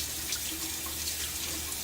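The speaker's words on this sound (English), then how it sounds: "rinse in this cold water" Cold water runs steadily from a tap into a sink to rinse a Merkur Futur safety razor, a close, even hiss of splashing water with no talking.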